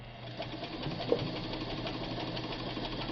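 Ford Deluxe sewing machine running steadily while stitching broadcloth, a smooth continuous motor whir with a fast even needle rhythm, close and moderately quiet with no talk.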